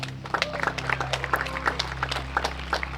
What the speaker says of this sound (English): Clap your hands for Silva Saarinen